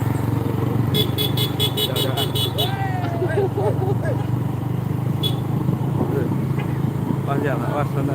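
A Honda motorcycle passes close behind on a busy road during a community walking event. Its steady engine drone sits among other traffic, with a burst of short horn toots and voices in the background.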